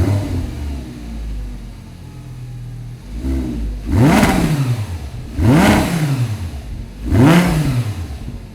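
An Audi R8 engine fires up, then three loud, separate revs each rise and fall in pitch in a sharp whoop. Each surge swells near and loud over a low idle, with short pauses between them.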